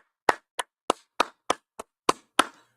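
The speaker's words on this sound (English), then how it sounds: "let's go ahead and clap it up" Eight sharp, evenly spaced claps at a religious street gathering, close and crisp with silence between each one, in a steady rhythm.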